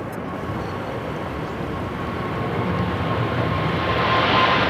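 A Boeing 747 cargo jet taking off at LAX, a loud, broad jet engine roar that builds steadily over a few seconds, with no speech.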